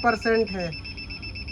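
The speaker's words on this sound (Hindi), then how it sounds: "ये जो अलार्म बीप अलार्म कर रहा है, ये केवल वार्निंग का है, लोड वार्निंग है" An Asha Power Rover 3024 inverter pushed near 98% load, about 2400 watts, sounds an overload warning alarm: a steady, piercing electronic beep tone that runs throughout, with someone talking over the first part.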